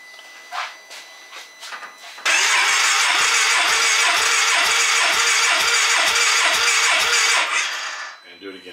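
A car engine cranks over steadily during a cylinder compression test on a car run on E85, with about a dozen even starter pulses under a loud, continuous whine; quiet talk comes before and the cranking cuts off near the end.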